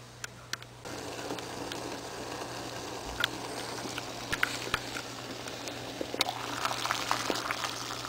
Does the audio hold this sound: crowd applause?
no